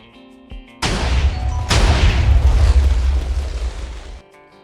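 A player cannon goes off in Minecraft: a loud, sudden blast erupts, a second burst follows almost at once, and a broad roaring rumble sustains for about three seconds before cutting off abruptly.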